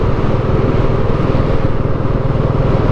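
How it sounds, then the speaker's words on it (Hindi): A vehicle approaches from behind a motorcycle on a night mountain road on the Sach Pass ride, its engine a steady, loud, continuous rumble and drone with no speech. "जैसे ये गाड़ी पीछे आ रही है"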